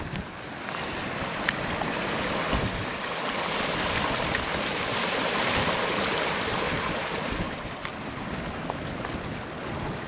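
Water from a warm creek spring in Nevada pours and gushes steadily into a reservoir, a dense, continuous rushing wash heard close up without any talk.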